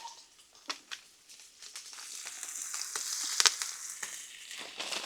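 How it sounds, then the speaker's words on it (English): Steak bites searing on a Blackstone griddle, a quiet, crackling sizzle with scattered pops and spits that builds slightly as it goes on. "As soon as that steak hits that griddle,"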